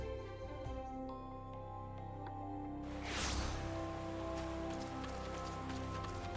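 Rain in Final Fantasy XIV patters softly and steadily beneath sustained game music, its hiss swelling briefly partway through, with no voices.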